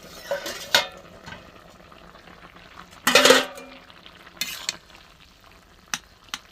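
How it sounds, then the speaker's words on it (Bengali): A pot lid is lifted off potatoes and pointed gourd cooking on the stove, giving one loud metallic clatter amid a quiet simmer and a few lighter utensil taps. "ঢাকাটা খুলে দেখবো"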